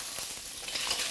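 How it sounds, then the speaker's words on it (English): A brief burst of shrimp sizzling in a hot stir-fry pan, crackling and spitting with a slight stirring scrape, no voices. "Stir fry the shrimp."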